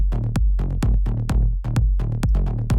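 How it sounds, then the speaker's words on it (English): Tech house groove in which a deep kick drum thumps steadily under a bouncy, syncopated synth bass line, loud, dense and continuous. "when we add the kick, we get something that's really carved down. It's a proper good tech house groove."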